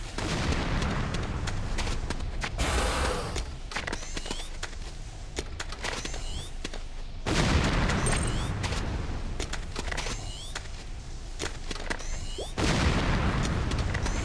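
Gunfire strikes a Nod Harvester in the game Renegade, with repeated loud bursts of shots and booms coming in waves over a dense, continuous battle din.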